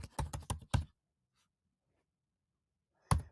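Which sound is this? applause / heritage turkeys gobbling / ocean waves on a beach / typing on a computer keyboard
typing on a computer keyboard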